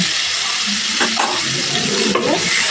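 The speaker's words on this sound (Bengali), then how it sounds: "এবার চিংড়ি মাছটা ভেজে নেব।" Shrimp frying with turmeric and a splash of water in a pan, a steady close broadband sizzle with a few brief scrape-like bursts of stirring throughout.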